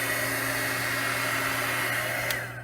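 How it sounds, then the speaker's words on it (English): A steady, whirring rush of blown hot air from a small embossing heat tool runs continuously at close range, easing off slightly at the end. "So then I took my heat tool"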